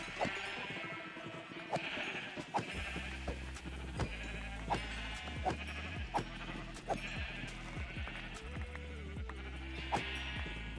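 Minecraft sheep bleat repeatedly in a steady series of short cries across the span, over a low background hum and occasional in-game clatter.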